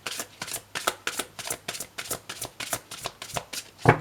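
Tarot cards are shuffled by hand in a quick series of crisp riffling bursts, about a dozen evenly spaced flutters close to the ear with nothing else over them.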